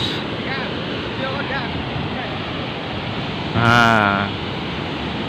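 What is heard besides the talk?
big ocean waves breaking on a beach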